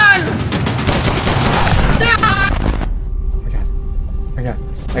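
Rapid, loud gunfire in the VR video game Resident Evil Village, a dense volley of shots that cuts off abruptly partway through and leaves quieter game sounds, with someone talking over it.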